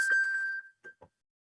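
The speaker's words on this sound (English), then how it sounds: "My phone went off." A phone notification dings once with a bright sustained tone that fades, followed by a couple of faint soft clicks in an otherwise quiet room.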